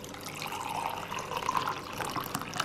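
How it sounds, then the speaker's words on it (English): Freshly boiled water pours into a cup over a teaspoon of powder, making a steady, close splashing and filling rush that lasts throughout with no voices. "Top it up with boiling water."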